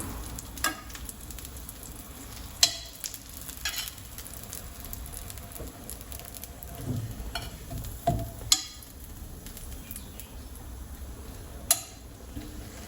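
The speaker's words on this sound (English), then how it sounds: "So I'll just cook it with the butter, just like that." Bread slices frying in butter in a pan give a soft, steady sizzle with occasional scrapes and clinks of a utensil against cookware, fairly quiet throughout.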